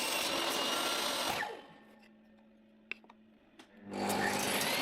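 Power saw cutting a wooden piece, a loud whining roar that winds down into a quiet pause with a few small knocks, then spins back up to full volume.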